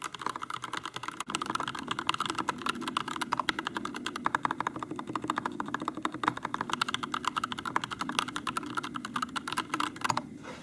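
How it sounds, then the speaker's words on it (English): Rapid, continuous typing on a Skyloong GK61 Pro mechanical keyboard, dense close clacks of keys striking in an uneven rhythm, heard alone and fairly quiet. "Here's also a quick typing test of what it sounds like."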